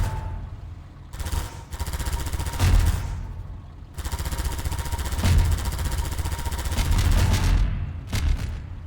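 Gunfire from a weapon in Half-Life 2, heard as loud bursts of rapid shots separated by brief gaps, with heavy low booms and sharp cracks in repeated volleys.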